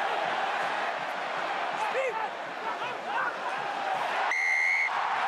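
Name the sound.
rugby crowd cheering in stadium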